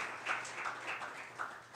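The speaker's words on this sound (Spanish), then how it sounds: "Denle un aplauso a nuestro amado Dios." Church congregation applauding a sermon, a soft, steady patter of many hands clapping with slight rhythmic swells, faint and somewhat distant.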